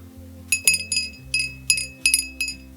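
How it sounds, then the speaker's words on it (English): A small amber glass bell with a glass clapper rings in several quick bright clinks, shaken in short bursts with brief pauses between them. "This bell is an amber glass with a clear handle"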